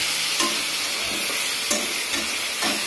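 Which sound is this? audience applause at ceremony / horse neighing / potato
potato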